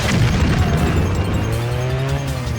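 Explosion in the PS2 stunt-driving game Stuntman, a dense booming burst with rumbling debris and a revving car engine underneath, loud throughout.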